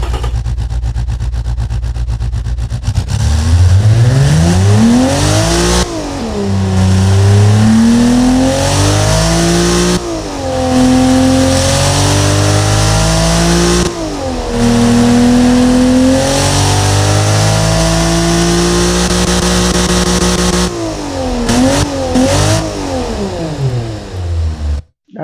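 An L28 straight-six engine with a 2.2-inch exhaust in the car-building game Automation, starting up and then revving loudly in several long sweeps that rise and fall, ending with an abrupt cut.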